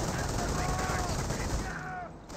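Rifle fire crackles in rapid bursts during a Company of Heroes battle, a steady rattle of shots mixed with other game sounds throughout.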